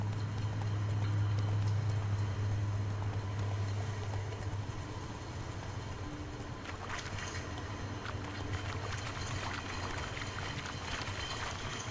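Horse hooves trotting in the video game The Witcher 3, a steady rapid clip-clop rhythm that continues throughout over a low constant background rumble.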